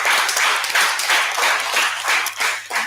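Audience applause at an HIV prevention conference hall: a dense, steady patter of many hands clapping, sustained and fairly loud throughout, with no talking.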